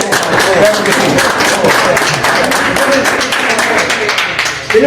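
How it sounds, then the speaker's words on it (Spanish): Guests at a fellowship luncheon in a Chinese restaurant break into loud, dense applause, a continuous wash of clapping close by, with voices talking over it. "Yo pido un aplauso intermedio por esto"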